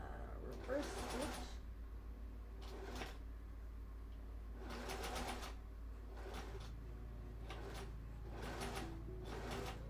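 A sewing machine reverse stitching in bursts, several short whirring runs separated by pauses, close and fairly quiet over a low steady hum.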